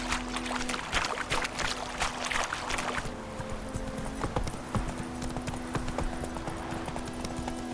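Hooves of Roach, the horse in The Witcher 3, clip-clopping in a steady rhythm, with the footing audibly changing partway through and faint game ambience beneath.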